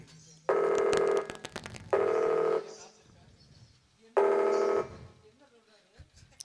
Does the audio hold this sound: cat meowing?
no